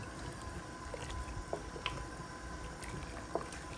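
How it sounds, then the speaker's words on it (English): A pot of seasoned water for a seafood boil heats on the stove, giving a faint, steady low simmering rumble broken by a few small, sparse bubbling pops. "now that the water is to a boil"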